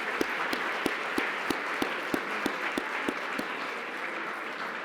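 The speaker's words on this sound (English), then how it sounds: "I want you to applaud yourselves for the wonderful things that you've done this past year." An awards-ceremony audience claps in an even, rhythmic burst of applause that stays moderately loud from start to finish, with no voices over it.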